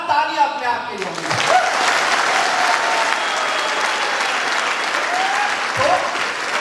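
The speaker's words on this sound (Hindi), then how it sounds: "एक बार ज्यादा ताली अपने आप के लिए होंगी।" An audience at a training seminar breaks into loud, sustained clapping that fills the room for several seconds, dense and steady, with a few voices and cheers mixed in.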